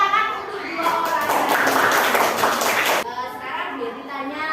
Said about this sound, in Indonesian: Tepuk tangan untuk 2 orang.